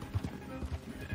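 A horse gallops in the video game Red Dead Redemption 2, its faint rhythmic hoofbeats thudding quickly beneath a low voice talking.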